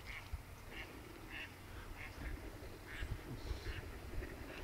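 Ducks quack repeatedly during a duck hunt, a flock calling in scattered bursts at moderate distance over steady low wind rumble, with no voices.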